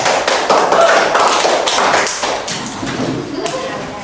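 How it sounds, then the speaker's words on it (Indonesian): An audience in an Indonesian school classroom breaks into dense, loud, continuous clapping that slowly thins and fades toward the end, with some voices mixed in. "Ya, tepuk tangan."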